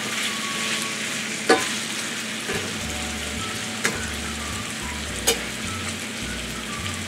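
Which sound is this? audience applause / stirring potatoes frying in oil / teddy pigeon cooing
stirring potatoes frying in oil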